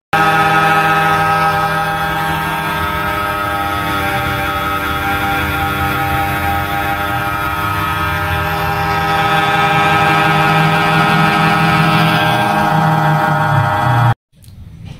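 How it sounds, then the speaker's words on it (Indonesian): A gallon water pump converted into a head cupping vacuum machine runs with a loud, steady motor whine and buzzing hum for about fourteen seconds, then cuts off abruptly. "Mesin bekam kepala tanpa cukur dari pompa galon."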